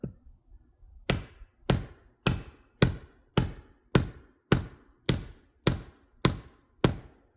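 Twelve heavy hammer blows land at a steady rhythm, splitting firewood, each a sharp, loud crack on wood with a brief ringing decay, close by and with no talking.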